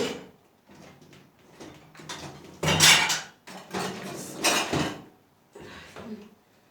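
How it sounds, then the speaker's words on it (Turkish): Dishes and cutlery clink and clatter as they are loaded into dishwasher racks, with a drawer-like slide and several louder knocks in between. "makineye girecek olan bulaşıklar da makineye girdi"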